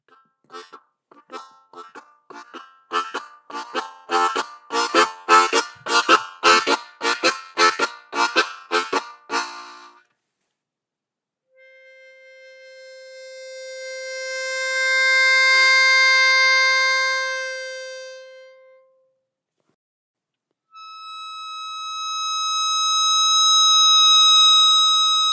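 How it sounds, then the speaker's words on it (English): Hohner Crossover Blue Moon Custom double reed harmonica, a quick series of rhythmic chords followed by two long held tones that swell loudly and taper off, played solo and close. "as you can hear, the Blue Moon is a little bit louder."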